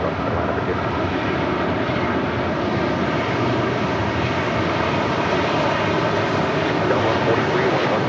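Southwest airliner at LAX on runway 25 left, its engines producing a loud, steady, broadband roar that stays constant throughout.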